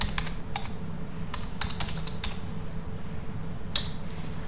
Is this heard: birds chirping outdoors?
no